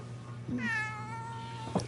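A game cat emote in Destiny 2 gives a single drawn-out meow with a rising then falling pitch while being petted, close and clear over a steady low background hum, ending with a short soft chirp.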